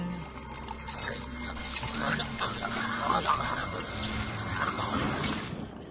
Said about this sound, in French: Je vais arroser vos fleurs.